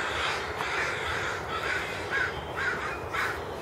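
Crows cawing repeatedly around a large lake in a park, harsh calls recurring every half second or so over steady outdoor background noise, moderately distant and fairly loud.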